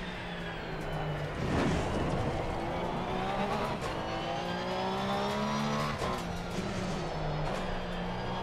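A Porsche 911 GT3 race car at the Nürburgring in the racing game Assetto Corsa Competizione, its engine revving and shifting through rising and falling pitches, loud and close, with tyre noise and no talk.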